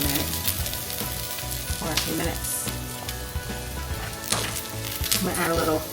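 Brussels sprouts seasoned with garlic and black pepper fry in a pan, a steady, soft sizzle with small crackles running throughout at a modest level.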